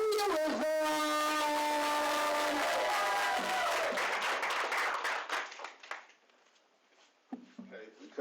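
Applause breaks out from a small audience at an open mic night, rising under a sustained musical tone and scattered voices, then thinning into a few claps and quiet.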